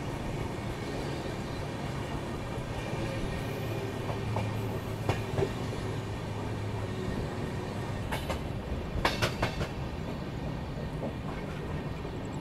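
Ranchi Rajdhani Express running slowly near Tundla Junction where the Agra line joins, a steady rumble of rolling wagons with rail clicks and a few sharp metallic clacks, heard continuously from on board.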